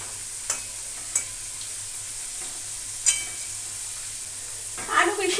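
Potatoes frying in a pan for a traditional mutton and potato curry, a steady soft sizzle with a few sharp crackles and pops, a louder burst of spattering near the end.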